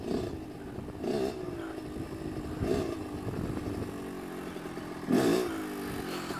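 A Kawasaki KX85 dirt bike engine drones nearby as it is ridden, with its buzzing two-stroke tone rising in a few throttle surges before settling back to a steady idle-like run.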